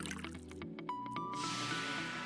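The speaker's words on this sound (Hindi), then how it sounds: "सभी को अच्छे से पानी दें।" Water poured into a plant pot over ice during a craft project, a few quick drips and droplet splashes followed by a steady trickling fill, faint and close with no voices.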